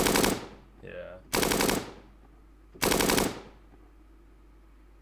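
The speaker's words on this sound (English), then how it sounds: "I've got this machine gun one, which I'm guessing is going to be multiple shots." Machine gun sample played back in Logic Pro X: three loud, sharp bursts of rapid gunfire about a second and a half apart, each fading into a decaying tail, with a short spoken word between the first two.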